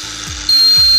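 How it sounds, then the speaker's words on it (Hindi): An alarm on a school science project vehicle model, triggered above speed 60, switches on as a steady high-pitched electronic tone over a rhythmic mechanical whirring and ratcheting, loud and close. "60 के ऊपर जाते ही यहाँ पर एक अलार्म बजने लगा"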